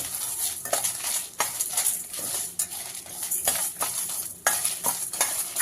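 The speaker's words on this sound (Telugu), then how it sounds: "ఇప్పుడు మనం లైట్గా వేయించుకుందామండి." Whole spices dry-roasting lightly in a pan for a chicken fry masala, stirred with a utensil, giving repeated soft scraping strokes and faint crackle, close and steady, with no talking.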